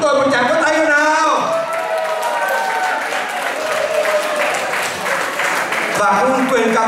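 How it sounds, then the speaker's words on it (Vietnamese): Audience clapping at a Vietnamese Lunar New Year concert in Alkmaar, Holland, with steady applause running under a singing or speaking voice and music, loud and lively. "Xin cho bài hồng của chúng tôi một tràng pháo tay nào."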